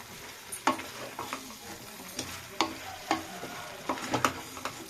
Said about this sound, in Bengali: এগুলো দিয়ে এখন কষাতে থাকবে তো এটা নাড়িয়ে চাড়িয়ে মানে কষিয়ে